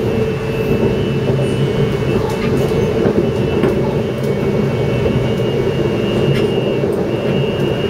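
A KTM commuter train pulls into Seremban station on its run from KL Sentral in Malaysia, with a loud, steady rumble of wheels and carriage noise that continues without a break.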